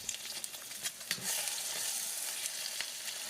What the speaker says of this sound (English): I then use the wok spatula to spread the egg around.